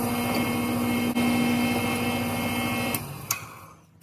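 Steady high whine of a drill bit cutting through the metal wall of steel tubing for a wooden gate hinge, a continuous loud grinding tone that drops away and winds down near the end.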